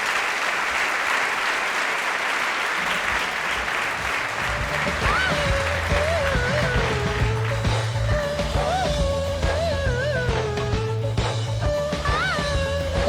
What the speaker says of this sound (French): Et on peut les applaudir parce qu'ils ont bien travaillé aussi hier.